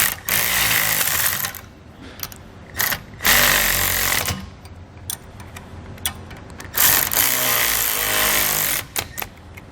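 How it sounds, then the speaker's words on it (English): A 2020 Chevrolet Silverado 5th wheel hitch has its cap screws tightened with a 7/32 inch Allen key and a 14mm wrench, giving several loud bursts of rapid ratcheting and buzzing separated by short pauses. "we'll take a 7/32 inch Allen key and a 14mm wrench here,"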